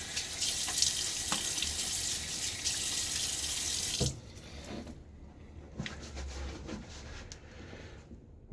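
Tap water runs into a sink as a face is wetted before shaving, a steady close hiss and splash for about four seconds, then the flow stops, leaving softer drips and splashing.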